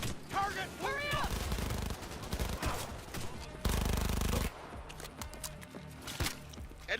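Gunfire in the video game Cyberpunk: bursts of close-range shots and rattling automatic fire mixed with chaotic combat effects, loud and continuous across the clip.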